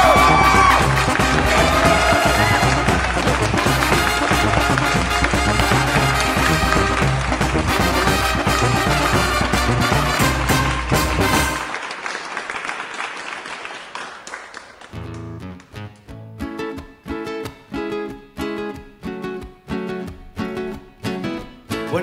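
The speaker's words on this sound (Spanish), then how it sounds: "fuerte el aplauso." Loud audience cheering, whooping and applause at a live comedy show, a dense roar for about twelve seconds that drops off into scattered, rhythmic clapping.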